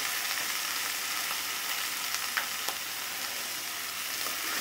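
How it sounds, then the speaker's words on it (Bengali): Rui fish fries in a pan over low heat, giving a steady, gentle sizzle with a few faint crackles and pops and no talking. "খুব আস্তে আস্তে এবং লো চুলার আঁচটা দিয়ে লো পরিমাণে দিয়ে ভেজে নিতে হবে"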